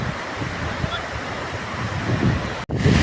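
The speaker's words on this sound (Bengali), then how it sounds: "বুদির আগে রাস্তার ধারে এই ঝর্ণাটা।" A roadside waterfall in the mountains on the way to Adi Kailash roars as a steady broadband rush of falling water, with brief wind buffeting on the microphone near the end.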